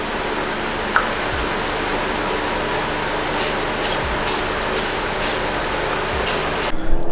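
Spray painting brake calipers with colour-shift paint: a continuous close hiss of aerosol spray fills the whole stretch, with a few faint taps and clicks over it.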